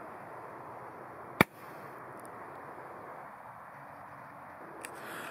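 A single sharp firework bang from a Goliath rocket battery cracks out at a distance over steady outdoor hiss, followed by quiet, with a couple of faint pops near the end.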